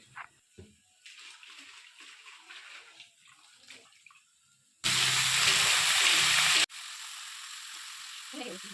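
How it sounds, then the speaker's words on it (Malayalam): A small splash of water hits a hot pan of crab masala and sets off a loud, steady sizzle lasting about two seconds, followed by quieter simmering after earlier soft kitchen sounds. "ചെറിയതായിട്ട് ഇത്തിരി വെള്ളം ഒഴിച്ച് കൊടുക്കുന്നുള്ളൂ"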